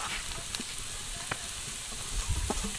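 Grated carrot sizzles in a pan while it is stirred, cooking for carrot payesh. A soft, steady frying hiss carries on throughout, with occasional light scrapes and taps from the stirring.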